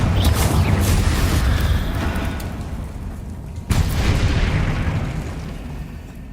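Two deep, booming blasts from the Confringo fire spell in Hogwarts Legacy, each one loud and sudden, followed by a long rumbling decay. The second blast lands mid-clip, and nobody speaks.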